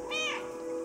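A small cat in the video game Stray lets out a single clear, close meow on command, rising and falling over under a second against a steady game background hum.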